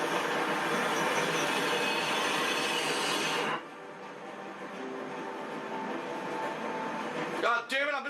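A train rumbles past in The Walking Dead video game, a broad steady roar that cuts off abruptly and leaves a quieter hum, with a voice breaking in near the end.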